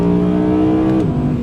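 An Audi R8 V10 Performance Coupe quattro S tronic engine holds a loud, steady droning note, its pitch dipping slightly just before it ends, with no talk.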